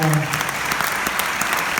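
A room full of people applauding at a Nanuet community meeting, dense clapping heard briefly and evenly, with a voice faintly mixed in at the start.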